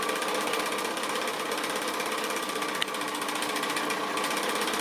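A sewing machine stitching cotton quilt pieces at a short stitch length, running fast and continuously with a dense, buzzing rattle, close and steady for several seconds with no talking.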